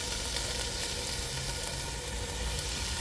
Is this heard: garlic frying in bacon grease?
yes